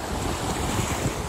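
Beach at Destin with steady wind gusting over the microphone and waves surging in the background, a continuous rough roar with no voices.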